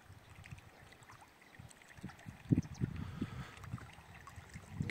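A small remote-controlled boat turning and heading back across the water, a faint low motor churn with soft splashing and gurgling that grows a little louder midway, heard from a distance outdoors.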